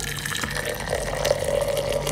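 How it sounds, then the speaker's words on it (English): Hot water pours steadily into a mug over black tea, a continuous close-up liquid splash and trickle with no talking. "Pour 2 cups of hot water"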